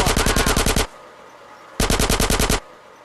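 Rapid automatic gunfire in GTA San Andreas, two loud, close bursts of evenly spaced shots separated by a short quiet gap, with no talk over them.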